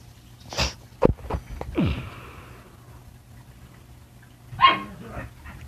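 A pug barks loudly in a few sharp, separate bursts close to the microphone, with quiet pauses between them and a final bark after a longer gap.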